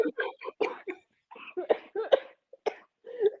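Several short coughs and throat sounds mixed with a person talking, close and moderately loud, in broken bursts with brief pauses between them.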